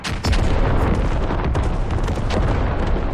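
Artillery barrage in a Squad match on the Talil Tanks map: dense, continuous rumbling booms and blasts overlapping loudly for the full stretch, with sharper cracks standing out at intervals.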